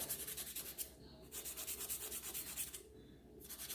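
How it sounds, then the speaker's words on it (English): A 100-180 grit nail file rasps back and forth across acrylic stiletto nails in quick, rhythmic strokes, close and soft, with two short pauses between bursts of filing. "Make sure that when you're filing, you're removing any acrylic that got stuck to the skin."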